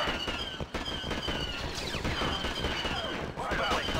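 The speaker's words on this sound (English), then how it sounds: "You just need to tell them to charge right into the gunfire." Sustained automatic blaster fire from a Star Wars Battlefront battle rattles continuously at close range, with dense bursts and a few sharp impacts layered throughout the scene.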